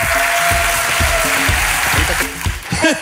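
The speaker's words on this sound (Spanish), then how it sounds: "¡Un fuerte aplauso para ellos!" Applause from a studio audience on a comedy talk show, a steady dense wash of clapping running throughout with a short burst of voices near the end.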